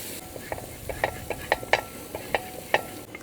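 A spoon stirs crushed garlic and ginger frying in a pressure cooker for beef curry, giving a series of sharp scraping clicks, roughly one or two per half second, over a low steady sizzle.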